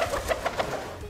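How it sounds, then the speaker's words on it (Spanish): Birds call in short repeated bursts, a few quick chirps spaced roughly evenly over about a second, moderately close with faint background noise and no talking. "los pájaros hacen ruido"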